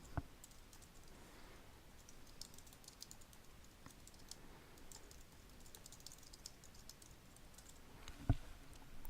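Steady typing on a computer keyboard, a quick run of soft clicking keystrokes close by, with one sharper tap near the end and no voices.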